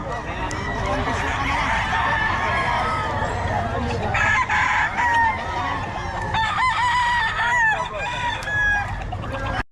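Busy poultry market crowd with chickens clucking and roosters crowing repeatedly, mixed with chatter from people nearby, a dense and continuous din.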